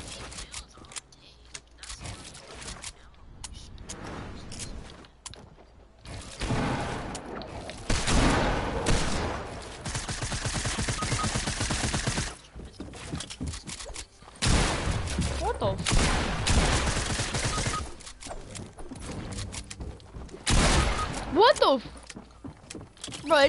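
Video game gunfire in a multiplayer match: bursts of rapid shots and fusillades come in several loud clusters separated by quieter gaps, with voices talking over the action.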